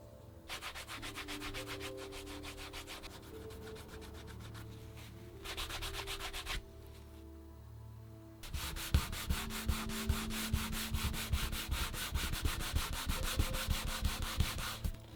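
The edge of a leather camera wrist strap is burnished by hand. Repeated rhythmic rubbing strokes sound close and dry. A short pause comes before a faster, louder run of strokes.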